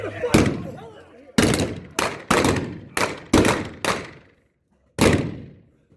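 Sharp gunshots crack out one after another in a staged Old West gunfight reenactment in Tombstone, Arizona, about seven loud blasts in an uneven volley, each with a short echoing tail, and a pause before the final shot.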